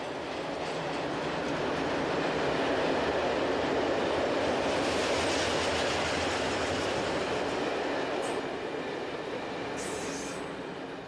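An electric freight train hauling iron ore in Belgium rolls past with a continuous heavy roar and clatter of wagons, with brief wheel squeals near the end.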